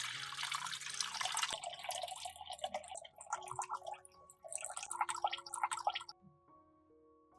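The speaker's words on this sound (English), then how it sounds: "pour water into a clean bowl to determine the amount of water needed for the soaking solution" Water trickles and splashes into a clean bowl in uneven bursts for several seconds, then thins to a few drips and stops, ending with a sharp knock.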